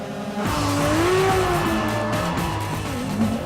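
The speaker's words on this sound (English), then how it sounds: "I'm using about a quarter throttle here in third gear, and I'm completely sideways." Ferrari F12 TDF V12 engine howling at part throttle in third gear while sliding sideways, a loud sustained drone with wavering pitch and tyre squeal layered over it, close and continuous with no talking.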